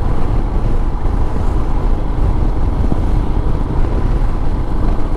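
Steady, loud wind buffeting the microphone during a motorcycle ride on an offroad trail in the Kailasagiri Hills, a continuous broadband roar with no break and no talk.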